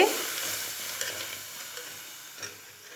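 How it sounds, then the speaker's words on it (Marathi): Kurdai curry, a spiced dish of wheat kurdai, comes to a boil in a pan on the stove, giving a soft, steady bubbling hiss with faint stirring clinks throughout. "हे बघा छान उकळी आली"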